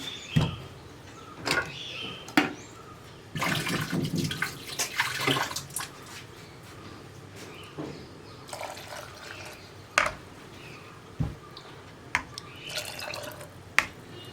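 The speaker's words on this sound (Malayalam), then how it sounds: "മിക്സിയുടെ ജാറിലേക്ക് കുറച്ച് വെള്ളം ഒഴിച്ചിട്ട്" Water pours into a mixer grinder jar in a home kitchen while a Kerala kadala curry is being made, a few splashy bursts and drips spread out with quiet gaps between them.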